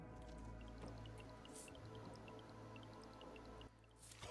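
Water pours and drips into a potion in the cooperative puzzle game We Were Here Together, with a sequence of small bright droplet plinks over a low steady hum and a fuller splash near the end.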